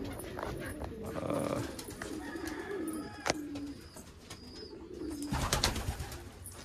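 Homing pigeons and Indian fantails coo steadily inside a loft where some birds sit on eggs and young, with soft layered calls, rustling and a sharp knock near the middle, close and moderately loud.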